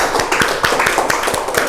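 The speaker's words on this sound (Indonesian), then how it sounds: "Tepuk tangan buat Neri." A class clapping for a student named Neri in a classroom, a close, rhythmic run of claps in a quick even beat for a short stretch.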